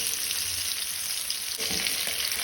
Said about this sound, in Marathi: बांगडे परतून घेवया। दोन्ही वाटल्यान बरें फ्राय करून घेवया।